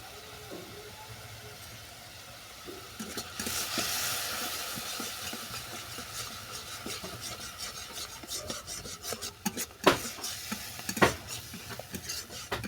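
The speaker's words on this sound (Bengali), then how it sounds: "সমস্ত মশলা ভালো করে কষিয়ে নিচ্ছি।" Turmeric, chilli powder and salt being stir-fried for a morola fish curry with mustard paste: a constant close sizzle under rough scraping stirs, with a few sharp clinks of the spatula near the end.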